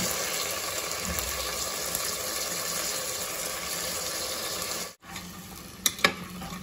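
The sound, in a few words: potato pieces and hyacinth beans stirred while frying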